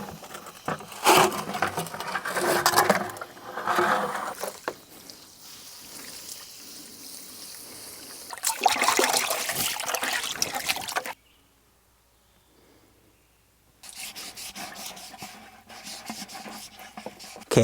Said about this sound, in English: So I'm going to scrub out my sluice box, make sure everything's out of there before we start.